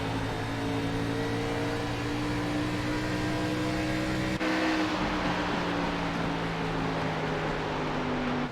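ARCA race cars lapping Iowa Speedway at night, their engines merging into a loud, steady, droning whine that shifts pitch partway through as the pack passes, with no voices.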